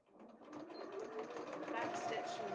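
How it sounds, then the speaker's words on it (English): A sewing machine runs a straight stitch along a fabric basket seam, its motor whirring steadily and building slightly over a few seconds, with a voice faintly present underneath. "So just a nice straight stitch all the way along with a nice even seam allowance"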